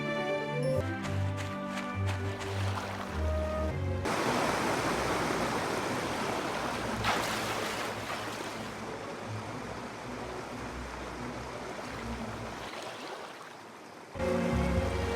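A waterfall roars in the video game My Time at Portia as a broad, steady rush of falling water, with game music around it at the start and end.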